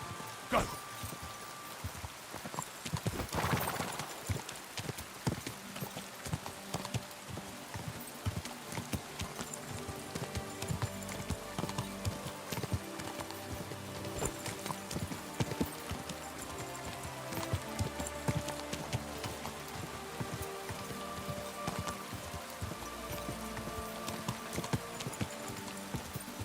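Steady clip-clop of horse hooves trotting in Kingdom Come Deliverance 2, a continuous even rhythm under rain-like patter, with a brief loud burst near the start and almost no talk.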